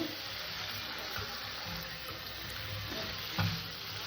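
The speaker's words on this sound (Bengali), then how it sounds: "দুই থেকে তিন মিনিট এটাকে কষে নেব আমার আলুটা কষা হয়ে গেছে পোস্তটা কষা হয়ে গেছে" Potatoes and poppy seed frying in a pan for a vegetarian aloo posto dish, a steady soft sizzle and hiss throughout with a faint clink of stirring near the end, quiet and close.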